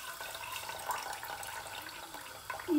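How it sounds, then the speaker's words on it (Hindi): Water left from peeled potatoes is poured into a pot as a steady, close splashing trickle that runs continuously and swells slightly at the very end. "पॉट के अंदर हम डालेंगे ये पानी,"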